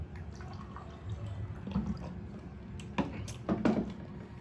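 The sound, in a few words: water spilling, glass knocked over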